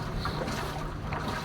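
Water sloshes and churns steadily inside an LG inverter automatic washing machine during its wash cycle while it is being repaired, a continuous moderate swishing with no pauses.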